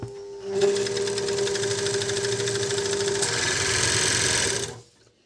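A Prima overlock sewing machine runs steadily for about four seconds, stitching and trimming two layers of fabric with a dense, fast whirring chatter before stopping; no one talks over it.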